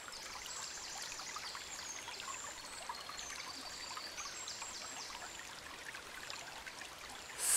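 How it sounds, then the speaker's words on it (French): A natural stream flows in a steady, close rush of trickling and babbling water with bright splashy detail, continuous throughout and with no voices. "le bruit de l'eau qui coule"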